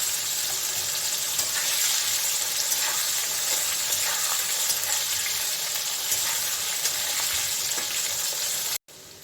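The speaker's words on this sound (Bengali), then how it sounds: "এর সঙ্গে সিদ্ধ করে রেখেছিলাম, ওই আলুটা আমি দিয়ে দিচ্ছি, একটু ভেজে নেব।" Boiled potatoes frying in a pan during preparation of a vegetarian broccoli fry, giving a loud, continuous dense sizzle and hiss with faint stirring, nearly unbroken until a brief cut at the end.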